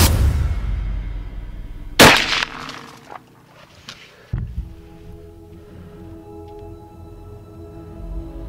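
A rifle shot at a deer during a late-season Iowa hunt cracks loud and close, followed by a fading rumbling echo and a few scattered knocks, with no one talking.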